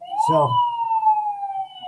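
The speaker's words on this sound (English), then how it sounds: "their kids are out testing our sirens and lights in the patrol car" A police patrol car siren being tested sounds a loud, steady wailing tone that glides slowly downward for the whole stretch, with a brief spoken word near the start.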